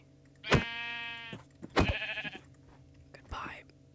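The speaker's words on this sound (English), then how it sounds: "Hello, sheep. Goodbye, sheep." Minecraft sheep bleat three times, each a short nasal wavering cry with spaces between, heard clearly against quiet background; someone talks softly between the calls.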